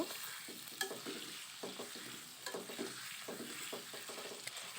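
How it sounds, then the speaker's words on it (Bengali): Boiled potatoes being stirred in a pan with spices, a soft close sizzle of frying under repeated scraping and stirring strokes of a spoon, with no talk. "এরপরে সিদ্ধ করে রাখা আলুগুলো দিয়ে দেব তুলে সুন্দর করে নেড়ে নেব"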